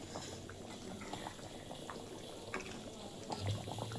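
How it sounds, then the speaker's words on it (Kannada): Chicken sambar at a rolling boil in a pot, frothing up with oil, giving a steady close bubbling and popping with occasional louder bursts, no talking. "ನೋಡಿರಿ, ಸಾಂಬಾರು ಕುದಿದು ಹಿಂಗೆ ನೊರೆ ಬರಬೇಕು."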